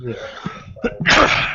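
A single sharp, loud sneeze bursts out near the end, after a brief murmured reply in casual conversation.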